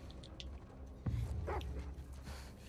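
A dog barks in The Last of Us Part II during gameplay, a sudden loud bark followed by yelps over low game ambience and rumble.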